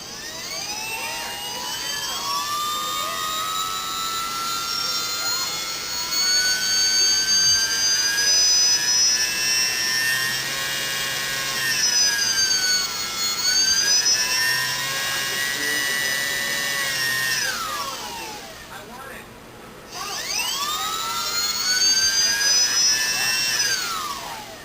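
Small electric motor of an FMS 800mm F4U Corsair RC plane running up, a steady high whine with rising and falling pitch sweeps as the throttle changes, close and loud throughout, with a brief dip near the end before spinning back up.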